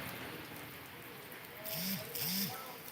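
Heavy rain pours over the town of Ramayampet as a steady, dense hiss, broken near the end by a couple of brief rising-and-falling tonal sounds.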